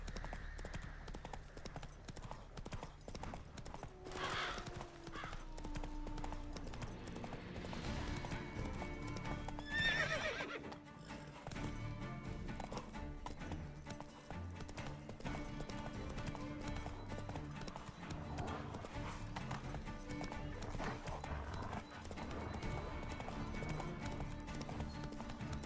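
Geralt's horse Roach galloping in The Witcher 3, a steady drumming of hoofbeats with whinnies and a bed of game music and ambience running throughout, continuous and fairly loud.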